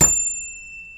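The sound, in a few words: hand bell ringing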